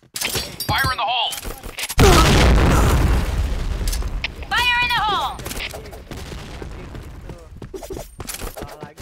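A grenade goes off with a loud, sharp boom in a Counter-Strike match, followed by a crackling rumble of debris and scattered gunfire, while players' voices chatter around it.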